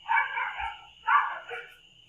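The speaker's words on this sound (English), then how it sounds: "Dogs barking." Two short bursts of dog barking sound faint and somewhat distant, each a quick yelp-like bark separated by a brief pause.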